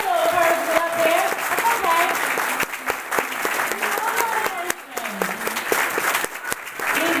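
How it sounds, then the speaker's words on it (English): An audience at a fashion show claps loudly and continuously, a dense burst of applause with scattered sharp claps and some voices mixed in. "Let's give a round of applause for Jalen."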